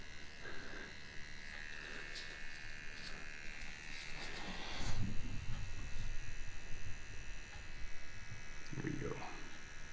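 An Xnet Vipera/Bestia tattoo machine set to its shortest 2.4 stroke buzzes continuously while shading, a steady mid-level whine with a few faint background noises throughout.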